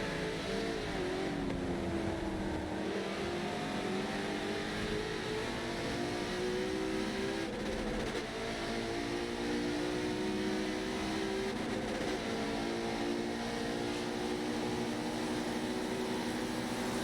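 A McLaren race car in a racing video game holds a steady, loud engine drone with rising and falling pitch through gear changes for the whole stretch, no pauses and no talk.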